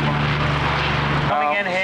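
A Boeing B-17 heavy bomber flies in at an airshow at Duxford, its loud propeller engine drone steady and close before the tone shifts as it passes.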